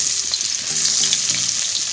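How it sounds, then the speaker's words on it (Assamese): Onions sizzling in hot oil in a home kitchen pan, a steady close hiss and crackle with occasional stirring scrapes, no voices. "তেল গৰম হ'ল আৰু এতিয়া মই দিম পিঁয়াজখিনি"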